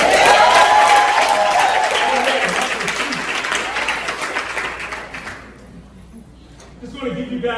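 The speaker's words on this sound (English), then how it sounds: "Clap your hands." An audience at a motivational talk bursts into loud, dense applause with some crowd noise, gradually thinning and fading out, before a speaker's voice returns near the end.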